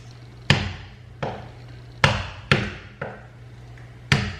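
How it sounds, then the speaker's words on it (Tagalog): Garlic cloves are pounded with a kitchen tool to loosen their skins: six sharp, solid thuds land at irregular intervals, each followed by a brief ring-out, close and distinct with no talking. "Kasi pag pinukpok mo na siya, sobrang bilis na lang balatan itong bawang."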